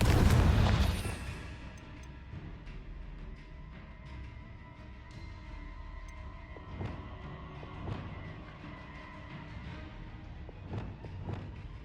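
A Confringo fire spell bursts in Hogwarts Legacy with a loud booming blast at the start, then fades into a lower rumbling game soundscape dotted with faint distant thuds.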